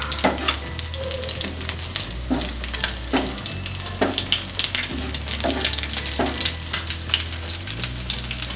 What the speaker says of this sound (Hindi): टिक्कियाँ हमारी फ्राई हो गई हैं, अब हम इनको निकाल लेंगे।